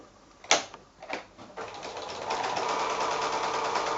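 Sewing machine stitching a quarter-inch seam on five-inch fabric quilting squares, a few clicks and starts giving way to a steady, fast mechanical whir close up, with no talk.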